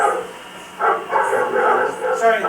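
Dogs barking next door, a series of yips and barks in uneven bursts at middling distance over a low background hum.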